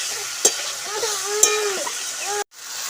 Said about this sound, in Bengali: আলুটাকে কষিয়ে নেওয়ার পরে এবার আমি জল দিয়ে দিচ্ছি